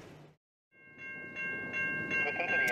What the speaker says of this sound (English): So ARTC, N-class in the middle, freighter just went through.